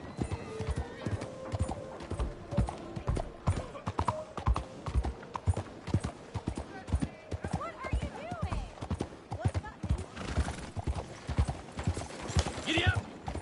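Horse hooves in Red Dead Redemption 2 clip-clop in a steady galloping rhythm, loud and close, with a brief whinny and speech over the top for most of the ride.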